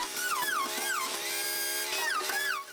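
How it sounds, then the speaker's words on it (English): A power drill whines close by, its pitch repeatedly rising and falling as it bores holes for all-thread form ties, with no talking. "To install these all-thread form ties, I drill 3 holes every 2 feet"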